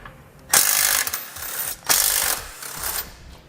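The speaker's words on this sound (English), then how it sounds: "Now we're also going to have to remove the 2 bolts on the bottom side of our bumper beam." A ratchet fitted with a 15mm socket rattles in two quick bursts of clicking while backing out bolts on the bumper beam of a 2017 Jeep Cherokee, close and sharp with no talk.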